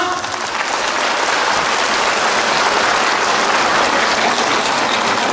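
Dense, continuous hand clapping from a large crowd, loud and steady throughout with no pauses or speech.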